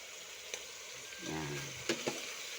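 Fish sauce hitting food in a hot pan, a steady close sizzle with brief stirring clicks and scrapes, a short bubbling swell in the middle.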